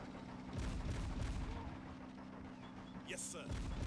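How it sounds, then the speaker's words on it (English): Distant explosions in a competitive 2v2 video game match give off low, rumbling booms over a steady background din, with a brief sharper burst near the end. "Let me get away from those explosions."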